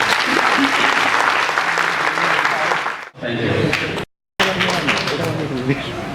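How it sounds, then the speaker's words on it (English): Audience applause for two performing artists at a CD release of Christian bhajans, a loud, dense sustained clapping that dips briefly and cuts out for a moment before resuming, with voices mixed in. "Let us give them a good clap."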